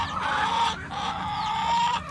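Several backyard chickens cluck and murmur together beneath a chicken house where they take dust baths, a steady chorus of close, overlapping calls with no talking.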